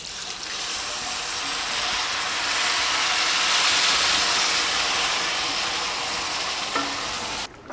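One and a half litres of cold water pours steadily into a cooking pot for red rice, a continuous hissing rush that swells slightly and stops abruptly near the end, with no talk.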